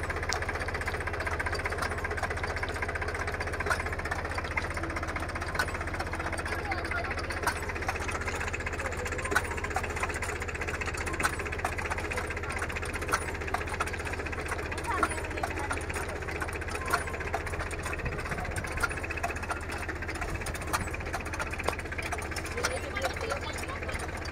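A Sonalika Tiger 50 tractor engine idles steadily with a knocking diesel chug, working alongside an SP Agro onion transplanting machine; the drone holds constant and fairly near throughout, with a voice talking over it.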